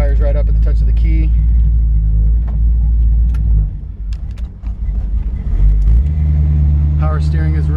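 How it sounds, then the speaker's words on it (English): A 1971 Chevrolet Camaro engine idles with a deep, loud rumble, dips briefly mid-clip, then picks back up into a steady running drone, with a voice talking over it. "She fires right up at the touch of the key."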